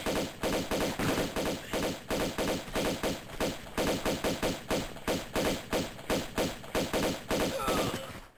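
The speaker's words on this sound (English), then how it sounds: "We're just going to shoot this guy down" Pistol shots fired in Tomb Raider 2 Remastered, a rapid, even series of sharp, loud cracks, roughly three to four per second, with a brief pause near the end.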